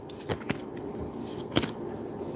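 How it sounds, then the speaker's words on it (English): Tarot cards are handled and shuffled close by, giving a continuous papery rustle with a few sharper snaps and flicks standing out. "We're going to put all these cards in order."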